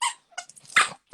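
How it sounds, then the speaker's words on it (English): A dog barks in sharp, loud bursts, one at the start and a stronger one near the end with quieter yips and growl-like sounds between, heard close by indoors during an interview. "It's the dog."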